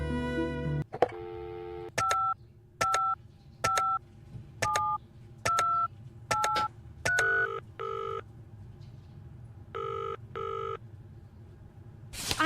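Telephone keypad tones in the video game Penelope Pendrick and the Art of Deceit: a run of about ten short, evenly spaced dialing beeps, clear and close, following a brief click, with no talk.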